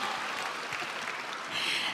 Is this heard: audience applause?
yes